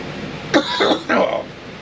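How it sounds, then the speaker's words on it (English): Three quick coughs close by inside a travel trailer, each a short harsh burst with small pauses between, and no talking. "that air is so strong it's making me cough"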